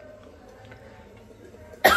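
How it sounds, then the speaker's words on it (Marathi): A single sharp, loud cough bursts out at the very end after a near-silent stretch, triggered by pungent fumes from spices tempering in hot oil. "आणि आता फोडणीचा ठसका आलाय"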